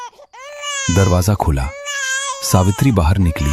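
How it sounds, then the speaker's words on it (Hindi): A newborn baby wails its first cry as a horror story sound effect: two long, loud, high-pitched bursts. A narrator speaks Hindi over the wailing. "बच्चे की पहली रोने की आवाज गूंजी।"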